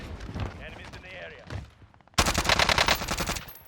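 Rapid automatic gunfire from the video game Warzone bursts in loudly after the players talk, a dense, continuous rattle of shots that lasts until the end.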